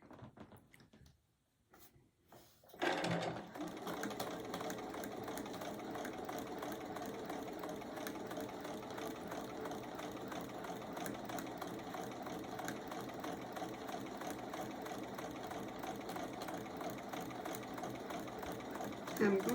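Sewing machine stitching a cowgirl baby quilt, starting after a quiet moment and then running steadily at a constant hum with a rapid mechanical clatter, close and continuous until the end.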